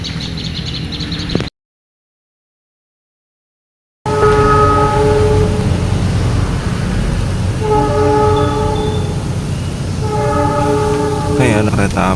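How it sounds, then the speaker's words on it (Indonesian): Loud rumbling Malabar train crossing the Cirahong bridge close by, with wheels clattering and a sustained horn tone recurring, cut by a sudden gap of silence early on. "Ada kereta api Malabar melewati jembatan viral Cirahong ya."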